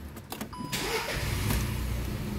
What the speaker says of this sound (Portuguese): vou ligar o motorzinho dele aqui para vocês verem